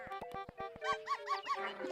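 A cartoon dog barks in the video game Yoshi's Story: a quick run of sharp, evenly spaced yips followed by several rising, whimpery bark tones, close and clear with no talking.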